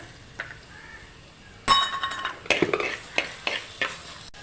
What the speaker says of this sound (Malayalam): ടൊമാറ്റോ കഷ്ണങ്ങൾ ഇട്ടിട്ട് കുറച്ച് സമയം നമുക്കിത് ഇളക്കി കൊടുക്കാം